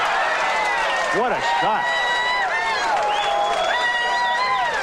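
A bowling crowd at a 1994 High Roller telecast cheers and applauds after a great shot, a steady roar of clapping and voices filling the hall while a commentator talks over it.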